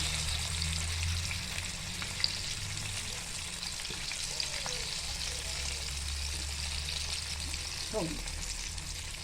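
KFC-style chicken fries in hot oil with a soft, steady sizzle that continues throughout, plus a few faint clinks and stirring sounds, heard close but at a low level.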